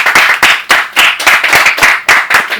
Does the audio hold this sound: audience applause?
yes